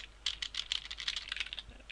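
Rapid, steady typing on a computer keyboard, close and fairly quiet, a dense run of light clicking keystrokes with no voices.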